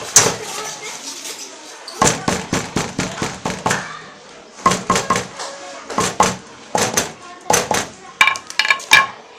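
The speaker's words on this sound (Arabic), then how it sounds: "الشاكوش" Sharp, repeated hammer taps on a handmade craft piece in quick bursts of several strikes each, separated by short pauses, fairly close and loud.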